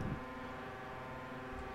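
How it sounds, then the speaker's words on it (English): Engine drone from a Midway arcade racing game, a steady low rumble with a constant hum held evenly throughout, moderately loud and without speech. "Just fucking engine noises."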